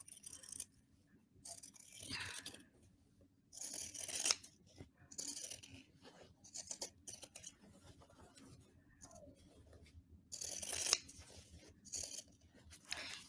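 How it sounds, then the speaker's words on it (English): Scissors snip through fabric scraps for a small patchwork stocking, a close, quiet series of crisp cuts in uneven bursts separated by short pauses. "I actually like to cut out a little bit further and then back in."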